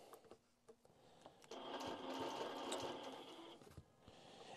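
A long-arm quilting machine stitches the outlines of letters on a quilt, a steady mechanical whirr that starts after a few quiet knocks and runs for a few seconds at moderate level before slowing.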